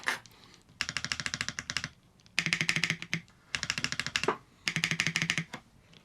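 Clicking bursts come from a custom mechanical keyboard being worked on by two young girls, four separate runs of rapid, close, crisp taps with short quiet gaps between them, no talking.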